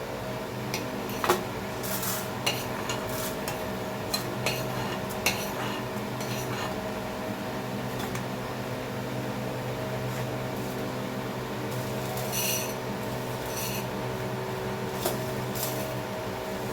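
Coriander seeds dry-roasting in a pan, soft sizzle and rattle with occasional small clinks of a spoon or utensil against the pan over a steady background hum, fairly quiet, no talking.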